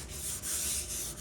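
Primer on a C10 truck is hand sanded with 600 grit sandpaper in a garage, giving soft, close rubbing strokes in a steady back-and-forth rhythm, fairly quiet and alone.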